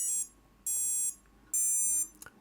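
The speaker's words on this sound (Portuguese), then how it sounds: "este é o som de calibração do variador" Three high, piercing electronic tones from a drone's electronic speed controller during calibration, each held for about half a second with short gaps between, followed by faint clicks.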